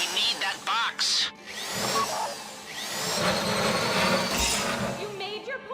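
A safety-deposit drill grinds steadily with a whirring whine during a FLEECA bank heist in GTA V Online, running continuously and fairly loud amid game sounds.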